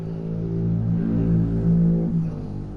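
A steady low engine drone with a humming rumble from a car in Fallout 4, swelling slightly as the vehicle passes nearby.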